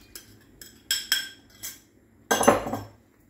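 A utensil clinks and taps against a bowl while milk and yeast are mixed for brioche dough: several sharp, close strikes, then a longer scraping stir near the end, with no talking.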